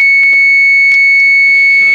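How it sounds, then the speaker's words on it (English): Water pump for a car's air-to-water intercooler switching on, a steady high-pitched electric whine that holds constant throughout, loud and close, with a few faint clicks and taps around it and no voices. "That's the sound of my water pump turning on."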